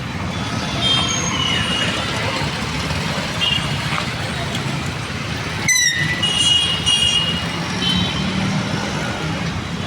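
Trucks and traffic roll past on a road in Ratnagiri, a loud continuous engine rumble with tonal beeps and a sharp hiss of air brakes partway through, while people talk over it.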